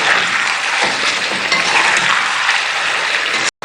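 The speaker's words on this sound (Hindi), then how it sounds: "इसको भूनते हैं अच्छी तरह।" Peeled tomatoes fry with garlic and ginger in a karahi, giving a loud, continuous close sizzle with a crackling texture that stops briefly near the end.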